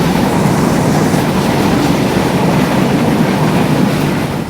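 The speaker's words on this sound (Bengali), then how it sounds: "গাইস আমাদের ট্রেন আসতেছে চিলাহাটি এক্সপ্রেস" The Chilahati Express approaches a station near Abdulpur Junction with a loud, steady broadband rumble and rushing roar that holds at full strength throughout.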